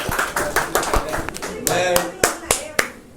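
A small group claps in loose, uneven bursts, sharp close hand claps spaced irregularly, with people talking over and between them.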